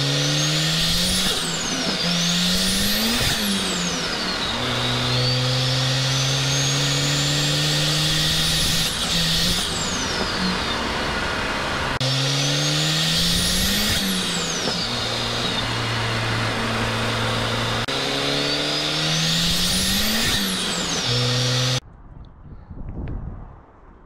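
A Volvo 940 turbo with a 102 mm throttle mounted before the turbo drives at night, its engine droning loudly and steadily with repeated rising and falling revs through gear changes, close and continuous, then cutting out abruptly near the end.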